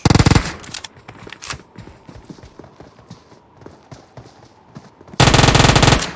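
Gunfire in PUBG Mobile, with loud bursts of rapid automatic fire at the start and end and scattered lighter shots and footsteps in between.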